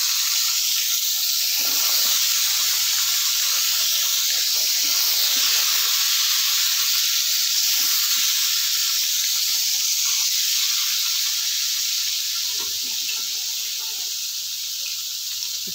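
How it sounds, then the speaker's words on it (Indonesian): Fish fries in hot oil, which hisses and sizzles in a loud, steady spray of noise for the whole stretch, with faint crackles and pops scattered through it. "Kita goreng ikannya hingga matang."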